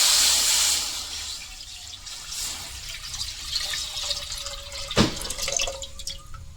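Tender coconut water is poured into a pudding mixture, a steady liquid trickle broken by splashy drips and one sharper splash, with no talking.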